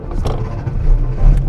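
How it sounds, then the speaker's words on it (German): A VW Beetle engine in Salzburg rumbles low and steady at close range, a short stretch of idling with slight swells and no voices. "Start the engine"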